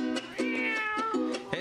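A cat meows repeatedly, several close, tonal cries in quick succession with a rising, drawn-out middle call, loud and clear with no talk over it.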